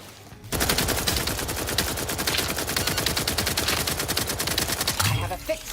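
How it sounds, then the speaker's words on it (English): Rapid automatic fire from an assault rifle in The Outer Worlds 2, a loud sustained burst of closely spaced shots running nearly five seconds after a short quiet start. "What if I would just use the assault rifle?"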